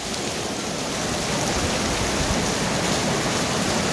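A river flowing past an auto campsite at Itadori Onsen in the rain, a loud dense continuous rush of water and rainfall that stays steady from start to finish.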